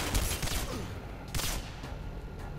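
A few gunshots fired in the shooter game Singularity, sharp separate cracks at moderate level over a steady background hum.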